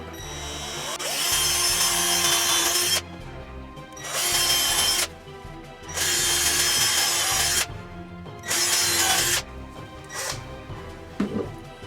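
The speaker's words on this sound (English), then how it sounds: "I'm just going to pre-drill holes through here so that I don't crack the plywood" A power drill whines in four bursts of a few seconds each, boring into plywood, with brief pauses and faint handling noise between runs.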